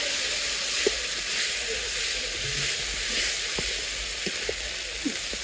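Spiced meat in a pan sizzles steadily after water is poured in, a constant loud hiss with faint scattered pops and clicks underneath.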